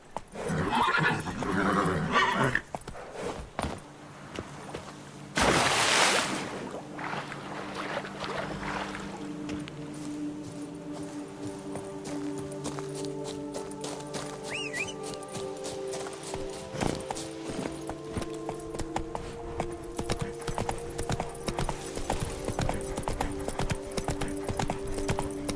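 Hooves clip-clop steadily in a rhythmic gallop in The Witcher 3: Wild Hunt, with a horse whinny near the start and game-like ambient tones underneath.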